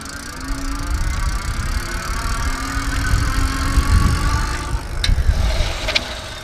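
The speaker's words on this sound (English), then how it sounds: "I'm gonna go ahead and gun the throttle now." A Leisger CD5 electric bike has its throttle gunned, giving a steady motor whir with rattling and outdoor rumble that grows slightly and ends with a few sharper clicks.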